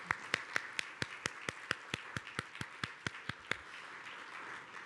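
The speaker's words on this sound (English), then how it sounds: "let's give all of our sponsors a big round of applause" At a Columbus Metropolitan Club gathering at the National Veterans Memorial and Museum, applause for the sponsors comes as a sparse run of about fifteen crisp, evenly spaced claps that ring out over a quiet room, then taper off.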